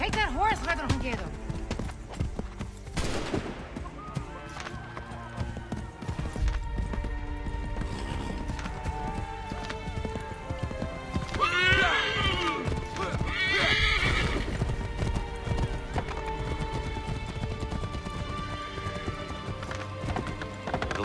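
Horse hooves clip-clop in a steady gallop with whinnies in Assassin's Creed III, The Tyranny of King Washington, near and loud under game music, with talk over parts.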